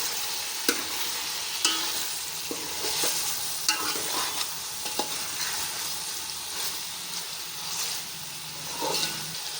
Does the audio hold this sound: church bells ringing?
no